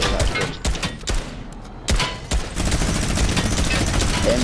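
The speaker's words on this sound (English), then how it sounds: "They're shooting from above." Gunfire in the Fortnite battle royale video game: loud rapid bursts of shots and thumps, broken by a brief lull, then a dense sustained volley, close and harsh.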